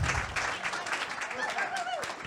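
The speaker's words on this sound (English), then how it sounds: "Please give them a very big round of applause." Audience applause at a tasting party, a brief, steady wash of clapping with voices talking through it.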